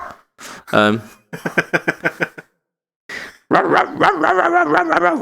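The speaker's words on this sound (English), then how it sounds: "I've got a dog that's barking, just like it sounds like directly outside of the window" A dog barks just outside a window in a short series of sharp, rhythmic yaps, while someone talks nearby before and after the barking.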